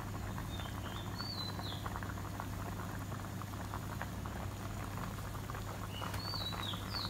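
A pot of catfish sour curry with catfish roe boils steadily, a soft continuous bubbling and patter at low volume with faint bird chirps in the background and no talking.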